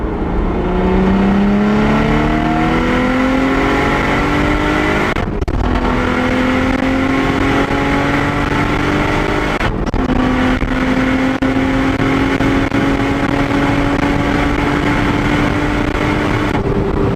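A car cruising at 70 miles an hour gives a loud, steady engine drone with rising harmonics through two gear-like shifts, alone with no talk.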